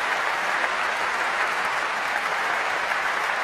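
Crowd applause at a Wimbledon ladies' singles tennis match, a dense, steady roar of clapping from a large stadium audience that holds evenly loud throughout.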